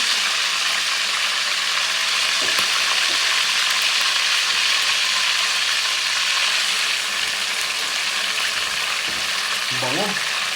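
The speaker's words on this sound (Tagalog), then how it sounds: "magpiprito na tayo ng ating minarinate na manok" Marinated chicken pieces frying in a pan for chicken adobo, a steady, dense, loud sizzle that fills the whole clip with a few faint clinks near the end.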